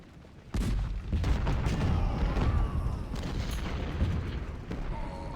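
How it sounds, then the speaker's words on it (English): Cannon artillery fire booms continuously through a Civil War battle in the strategy game Ultimate General: Civil War, a dense rumbling barrage of overlapping shots that stays loud throughout. "They have a lot of cannon in here."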